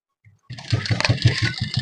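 A sewing machine stitches a pocket onto a foldable travel bag. After a brief quiet moment, a close, steady, rhythmic mechanical clatter runs continuously.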